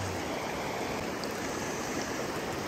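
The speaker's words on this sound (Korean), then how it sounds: "거기 지금 물살이 굉장히 빠르게 흐르고 있습니다." Fast, swollen mountain stream water rushes in a steady broadband roar, close and continuous with no voices.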